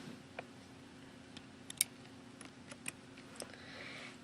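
A few sharp computer keyboard clicks stand out one at a time from a quiet room with a low steady hum, spaced irregularly like shortcut keys being pressed.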